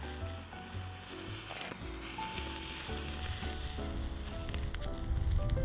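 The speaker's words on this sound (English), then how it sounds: "if we add liquid oxygen to the burning Doritos" Doritos burn fiercely with liquid oxygen poured on, giving a loud continuous hissing roar with crackles and pops that swell toward the end.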